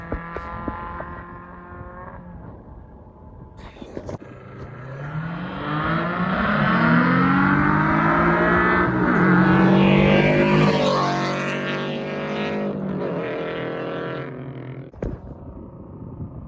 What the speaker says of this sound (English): Oh, they're doing roll racing.